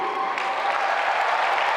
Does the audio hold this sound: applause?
yes